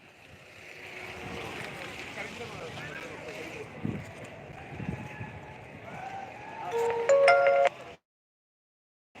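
A mobile phone ringtone sounds briefly toward the end, a clear melodic chime rising above a low rumbling background at an onion market in Solapur, then stops abruptly.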